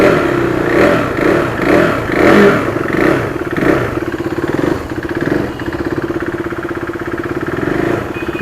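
A KTM RC 200 motorcycle engine revs in repeated pulsing bursts, loud and close, then settles into a steady idle-like drone.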